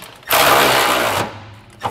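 A power tool runs a single burst of about one second while tightening side plate bolts on a B and W Turnoverball gooseneck trailer hitch under a 2022 Ford, loud and close, followed by a brief click.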